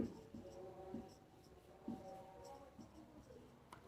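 Marker or chalk writing on a board, with a few soft strokes and taps at irregular intervals, faint and close, under low room noise and a quiet background voice.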